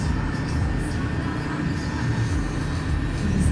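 A Red Bull aerobatic airplane performs at the Eurasia airshow 2018, producing a loud, steady engine roar that fills the entire moment without any voices.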